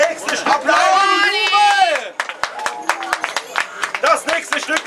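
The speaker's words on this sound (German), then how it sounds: "Das nächste Applaus." An audience at an open-air castle festival breaks into scattered, crisp clapping after a loud voice speaks briefly, with the claps continuing unevenly to the end.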